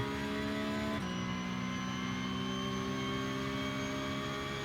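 A Porsche Cup racing car engine in the iRacing video game screams at high revs along a straight in a sustained, steady whine with one brief gear shift, loud and continuous.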